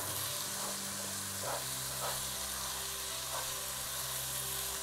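Chopped onion and frozen green pepper going into a pan with paneer, producing a continuous broad sizzle with a few faint stirring scrapes over a low hum.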